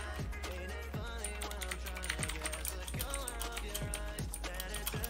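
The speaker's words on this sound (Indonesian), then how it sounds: "wah ini enak banget buat ngetik" Fingers type steadily on a new Sades Khanda mechanical keyboard, a brisk run of crisp, close keystroke clicks and clacks over a constant tonal background hum.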